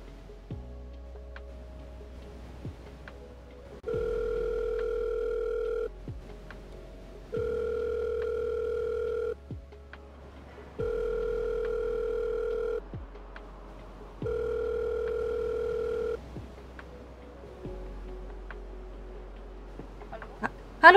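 Outgoing call ringback tone on a telephone, four evenly spaced long beeps repeating with pauses between them, steady and clear with no talking over it.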